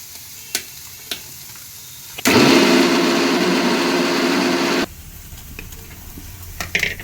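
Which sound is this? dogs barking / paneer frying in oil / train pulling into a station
paneer frying in oil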